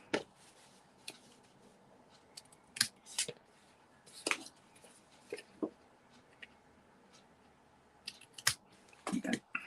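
Scissors trimming the edges of paper for a folded gift box craft, a series of short, crisp snips spaced irregularly across a quiet room, some close and sharp, with a quick cluster of cuts near the end.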